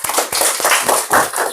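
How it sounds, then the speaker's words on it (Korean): An audience in a seminar on auction bidding claps together, a dense, loud patter of many hands that rises and falls in quick waves for the whole short stretch. "박수 한번 드릴까요?"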